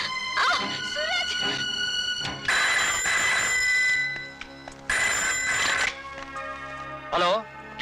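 An old-style telephone bell rings loudly in repeated long bursts separated by short pauses, close by, with some background sounds between rings.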